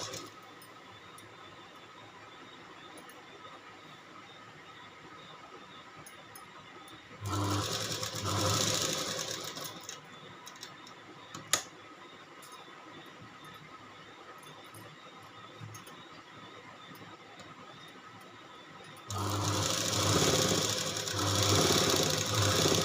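Sewing machine stitching an embroidered blouse: a soft, steady mechanical whir runs under faint room noise, broken by two louder bursts of rapid stitching, one brief and one sustained at the end.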